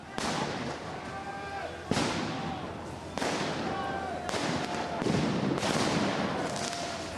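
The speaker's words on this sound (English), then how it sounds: "Tear gas keeps being shot at the protesters." Repeated sharp bangs of tear gas canisters being fired ring out every second or so, each echoing and fading, over constant crowd noise and distant commotion at a 2018 Yellow Vest protest in Paris.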